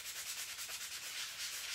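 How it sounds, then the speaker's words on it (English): A sanding block rubs back and forth across the top of a painted wooden sign, a soft, rhythmic scratchy hiss of close strokes with no talking. "I'm going to use my sanding block just to kind of smooth out the top here."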